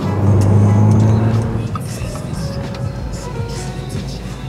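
A car drives along a road on Estonia's car-free day, its low engine rumble loud at first and then easing into a steady road noise.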